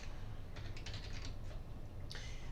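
Keys tapped on a computer keyboard while searching on an Ubuntu desktop, a quiet short burst of clicks followed by a single sharper keystroke over a low background hum.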